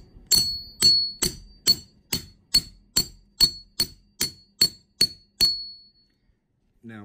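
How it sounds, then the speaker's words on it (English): A coin ring is driven down a Rathburn ring stretcher with a hammer, about a dozen sharp metallic clanks with a ringing tone struck at a steady, even pace, close and loud, then stopping. "We put the cut edge face down, and we're just gonna drive it until the ring band is basically even."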